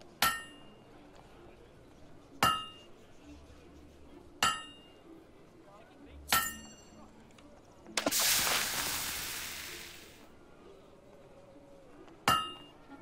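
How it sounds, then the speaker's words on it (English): Ringing metallic hammer blows shape a blade at a smithy in Fable II. Six sharp, evenly spaced strikes land about two seconds apart, broken once by a loud hissing burst in the middle. "You know how to use a hammer."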